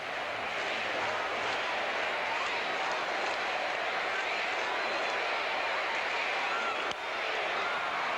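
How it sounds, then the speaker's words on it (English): Baseball stadium crowd at a Pirates at Astros game in extra innings, a steady broad roar of many voices that holds evenly for several seconds with no single standout shout. "Listen to the crowd."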